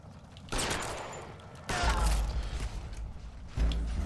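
Pistol fire in LA Noire lands as three loud, sharp reports spaced a second or two apart, each leaving a rumbling low tail that carries into the next.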